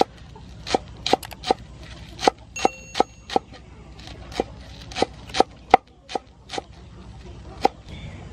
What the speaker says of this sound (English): Then I'm going to cut green onion.